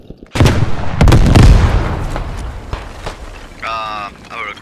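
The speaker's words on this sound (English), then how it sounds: "Our cannon just team killed us." Cannon fire in the Beyond The Wire WW1 video game, with a close, loud boom that rolls into a long rumbling blast and scattered gunshot cracks, followed by a brief voice.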